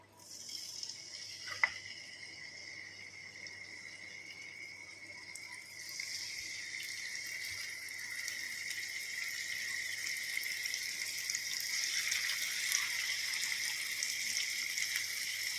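Kilimeen fish frying in coconut oil in a pan: a steady, close hiss and crackle of hot oil that thickens slightly after the fish goes in, with no voices.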